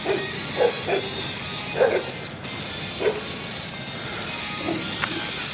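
Several dogs barking and yipping outdoors during a walk, in short bursts spread across the clip at a moderate distance, with no one speaking over them.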